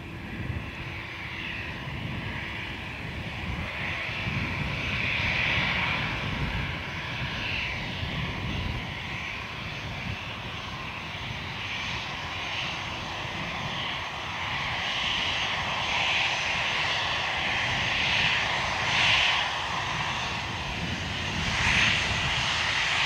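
Delta 177, a jet airliner, takes off from runway 10 right at Dublin Airport, a steady distant engine roar that swells slightly and holds for the whole stretch, with no voices over it.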